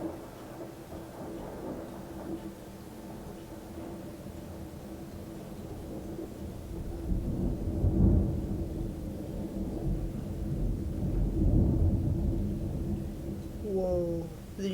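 A thunderstorm produces deep, low rolling rumbles that swell twice midway and then fade, heard at a distance under a steady background wash.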